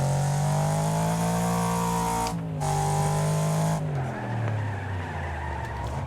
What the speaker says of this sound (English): Oh boy. There's been a crash.